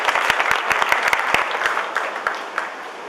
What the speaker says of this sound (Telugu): ఆయన ప్రత్యేక మీరు చప్పట్లు కొట్టేశారు